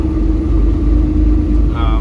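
Semi truck tractor engine running as the rig moves up, a loud steady low diesel rumble and drone with a faint rising whine near the end, while someone talks over it.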